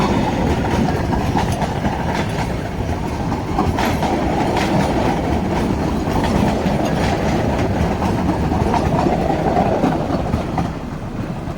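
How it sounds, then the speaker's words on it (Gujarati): A Junagadh–Delvada train rumbles steadily past on the rails in the rain, loud and close, its wheels clattering rhythmically for the whole stretch with no voices. "તો આવી ગઈ છે અમારી ટ્રેન"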